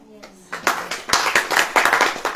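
Church congregation at a sermon clapping after a brief voice, a burst of many hands starting half a second in and continuing in quick, loud, uneven claps.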